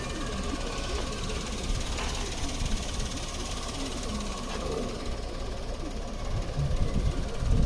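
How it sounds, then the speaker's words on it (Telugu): A 2017 Maruti Celerio VXI automatic petrol engine with the bonnet open idles steadily and loudly up close, with a constant rattling mechanical hum that swells slightly toward the end. "ఇంజన్ సౌండ్ కూడా చాలా బాగుంది"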